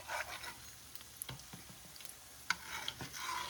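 Cornbread patties frying in a skillet being nudged around: faint, close sizzling with light scrapes and a few small ticks and pops, quiet and without any talking.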